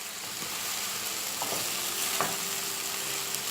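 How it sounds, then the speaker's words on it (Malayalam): Tomatoes sauté in an open pan over a high flame, giving a steady, even sizzle with faint stirring scrapes, close and alone without talk. "ഇനി ഫ്ലെയിം ഹൈ ആക്കി ഇട്ടിട്ട് തുറന്ന് വെച്ച് 2 മിനിറ്റ് വഴറ്റി കൊടുക്കുക."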